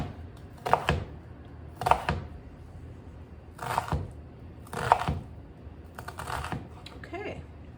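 A sharp knife chops an onion on a board in short clustered bursts of quick cutting strokes, about half a dozen bursts spaced a second or so apart, close and fairly quiet.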